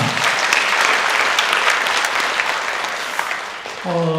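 A church congregation at a Sunday morning service applauds in welcome, a steady wash of many hands clapping together that fades slightly near the end before a voice cuts in.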